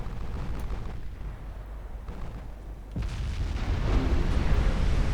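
Quadruple naval gun turrets fire in Ultimate Admiral Dreadnoughts during a 1955 Norwegian campaign battle: a dense, continuous low rumble of heavy gunfire, with a harder boom around midway, then the barrage swells louder toward the end.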